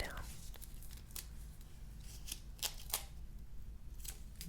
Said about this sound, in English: And then I tape it down.